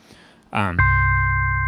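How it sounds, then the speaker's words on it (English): Two steady sine-wave tones from a Vocodec Rhodes preset sustain cleanly at close range, entering right after a brief voiced sound and holding evenly to the end. "So now I just have two sine waves."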